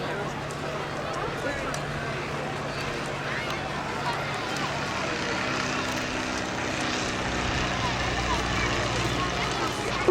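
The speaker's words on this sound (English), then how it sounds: "the Boeing Stearman, the Spirit of Tipperary." A Boeing Stearman biplane, a 1930s propeller aircraft, drones steadily overhead at an airshow, a loud continuous engine roar holding level throughout with broadband wind-like noise.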